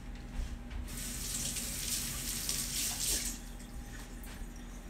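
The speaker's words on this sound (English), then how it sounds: "so I'm just going to give it a rinse." A kitchen tap runs steadily to rinse a sticky knife while a Tex-Mex casserole is being prepared, a close, continuous splashing stream lasting the whole stretch with no talk.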